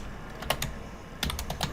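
Computer keyboard keys tapped in two short bursts of several quick clicks each, with a brief pause between, close and fairly quiet over faint background hum.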